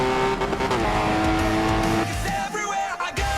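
A racing-game touring car laps the Le Mans Bugatti circuit, its engine whining loud and close with shifting revs, gear changes and brief tire squeal before dropping away near the end.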